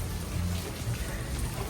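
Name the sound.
rain falling outside a lake resort hotel room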